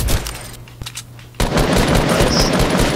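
Gunfire from a weapon in Fortnite battle royale, a brief burst early, a lull, then a loud sustained rapid volley of automatic shots close by, with no talking.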